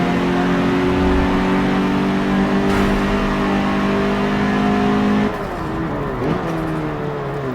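A car engine in a racing video game holds a steady, loud drone for about five seconds, then drops in pitch and level as the revs fall and waver near the end.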